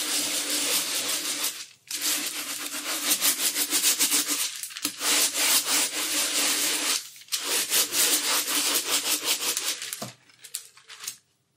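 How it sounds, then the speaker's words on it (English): Ball bearing baren rubbed over baking parchment on a woodblock print, a loud, steady rolling scrape in long continuous strokes broken by several short pauses, with no talking. "the baron I'm using for printing here is a ball bearing one, which is why you can hear the noise"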